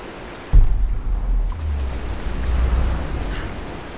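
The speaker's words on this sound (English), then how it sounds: "Just gonna climb up a waterfall." Rushing water from a waterfall in Tomb Raider: Definitive Edition, a steady low roar that swells suddenly after a brief quieter start and keeps churning at moderate loudness.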